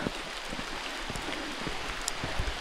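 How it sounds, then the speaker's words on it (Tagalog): Rain drips and patters steadily on Mt. Marami in Maragondon, Cavite, in the pre-dawn dark of a hike, a close, even hiss with a few brighter drops. "Hindi pa rin tumitigil yung tulo ng ulan."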